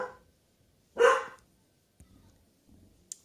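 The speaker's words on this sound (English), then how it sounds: "that's Toby barking now" A dog gives one loud, close bark indoors during a quiet craft session, followed by faint rustling and small handling noises.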